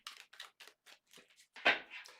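A deck of oracle cards being shuffled by hand, a series of about eight short, crisp papery bursts in quick succession, the loudest near the end, with silence between.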